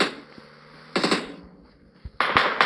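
Machine-gun bursts in a video game, two loud crackling volleys about a second apart, the second running to the end, with quieter game noise in between.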